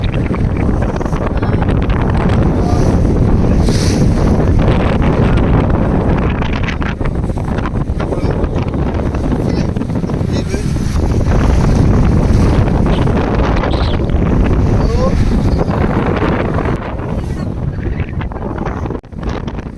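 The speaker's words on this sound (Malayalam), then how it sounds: "കപ്പിത്താൻ മോട്ടറിന്മേൽ കയറി ഇരുന്നിട്ടാണ് ഓടിച്ചുകൊണ്ടിരിക്കുന്നത്" An outboard motor boat carries passengers off Bilene beach, Mozambique, with the captain seated on the motor. Heavy wind buffets the microphone loudly throughout over a steady low engine drone, with no talk.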